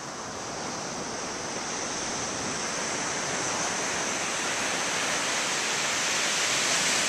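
Sea waves roll onto the shore at Dhanushkodi as a steady, loud broadband rush of surf that holds evenly for several seconds, with no voices over it.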